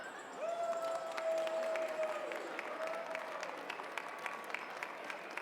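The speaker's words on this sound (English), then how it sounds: "a big round of applause for my tuxedo" Moderate applause from a gala crowd at the Manitoba Business Hall of Fame Gala 2023, scattered claps with a sustained whistle-like tone rising over them early on.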